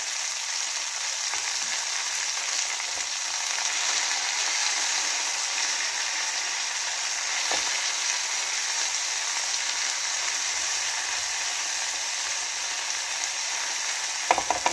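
Parava fish frying with onions in a pan sizzles steadily and loudly throughout, with occasional soft scrapes and knocks of stirring, and no voices.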